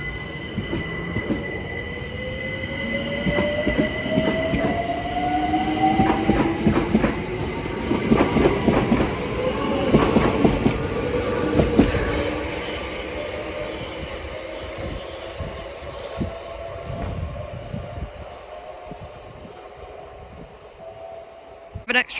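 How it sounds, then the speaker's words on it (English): London Overground train departing Sydenham station, wheels squealing and rising motor whine as it pulls away with clickety-clack over the rails, loud and close before fading into the distance. "Now departing is the 1335 London Overground service from Crystal Palace to Hybri and Islington."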